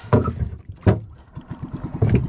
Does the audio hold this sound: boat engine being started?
yes